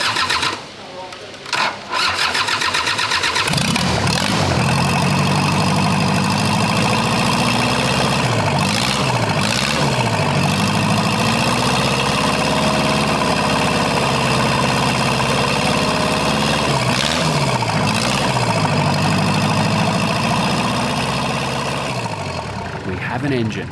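Restored Panzer I Ausf. B tank engine cranking and catching, then running loudly and steadily at idle with rough, uneven firing close by and a few revs, after brief initial noise.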